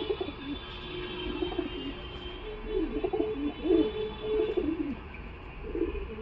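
Golden Chapka Madras pigeons cooing in a pigeon market, a series of soft, throaty rolling coos close by, repeating over a steady background hum.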